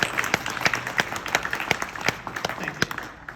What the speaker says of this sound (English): let's give one more round of applause to the team